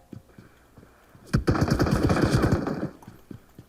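Enemy gunfire in the mobile battle royale game PUBG Mobile: faint scattered shots, then a sudden loud automatic burst of rapid rounds lasting over a second before fading back to a few distant pops.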